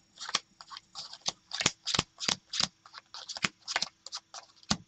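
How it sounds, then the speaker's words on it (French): A deck of playing cards is shuffled by hand in a quiet room, a run of close, crisp riffling and snapping bursts in an uneven rhythm, each lasting a fraction of a second. "Vous donnez le jeu au spectateur et le spectateur va mélanger à son tour."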